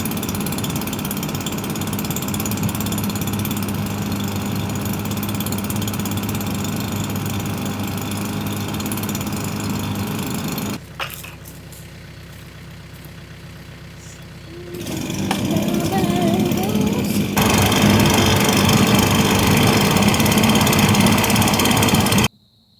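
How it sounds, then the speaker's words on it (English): An air blower forcing air into a burning tree stump gives a loud, steady mechanical roar that drops away briefly midway, then returns at full strength and cuts off abruptly at the end. "I let it run with a blower for 30 seconds or so to let it heat up."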